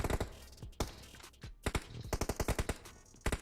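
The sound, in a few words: gunfire in a shooting video game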